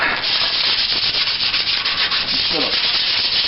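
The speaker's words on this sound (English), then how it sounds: "we're going to scuff this up a little bit" Sandpaper lightly scuffing an old, originally white bumper from a 1975 Dodge, a steady close rasping rub with short repeated strokes and no talking.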